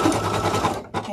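A machine embroidering felt masks stitches in a rapid mechanical patter that stops briefly near the end and then starts again.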